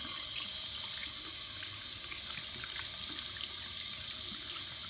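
Water runs steadily from a tap into a sink during washing, a continuous close splashing hiss with no pauses.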